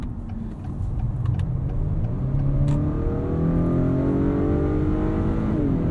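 A 2021 Acura RDX A-Spec SH-AWD crossover engine revs hard in sport mode and climbs steadily in pitch, loud and close throughout, with no talking.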